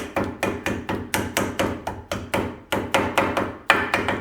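Steady, rapid hammer blows striking metal, about three per second, close and sharp, as a bearing is driven into a Baja buggy trailing arm.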